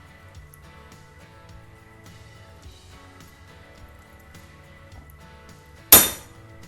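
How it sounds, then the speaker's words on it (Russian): A small screw snaps while tightening a knife sharpener clamp: a single sharp crack near the end after quiet background hum, close and loud. "при усилии в 2 ньютона мы сломали винт"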